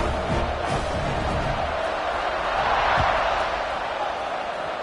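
A stadium crowd at a football game murmurs and roars as a broad, steady wash of noise, with a few thuds and a faint swell near the middle, under occasional speech.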